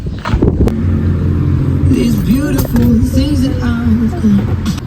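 Steady engine rumble and wind buffeting from a roofless car on a holiday drive on Rhodes, loud and continuous, with voices talking over it.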